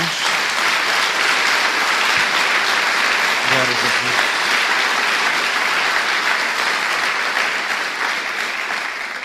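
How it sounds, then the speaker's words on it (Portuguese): Church congregation claps steadily for Jesus through the whole stretch, a dense, loud wash of applause while a preacher briefly calls out praise over it. "Dê uma salva de palmas a Jesus."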